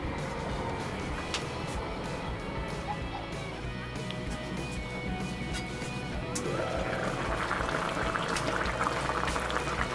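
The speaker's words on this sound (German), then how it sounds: "Jetzt muss ich mal aufkochen." Liquid in a heavy Dutch oven on a grill side burner bubbles and seethes at a rolling boil, getting louder and more vigorous toward the end. No one speaks.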